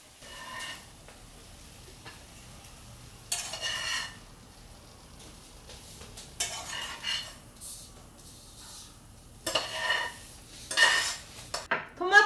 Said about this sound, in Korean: 토마토 달걀 볶음이 완성이 된 것 같은데 우리 접시에 플레이팅 해볼까요?